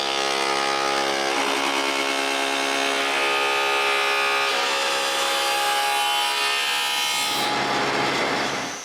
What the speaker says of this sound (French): Ensuite, je coupe une feuillure.